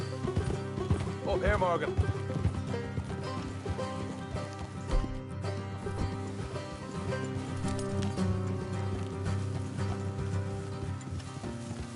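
Horses ridden along a trail in Red Dead Redemption 2, hooves clip-clopping steadily close by beneath a game music score, with a voice speaking briefly and a horse's whinny.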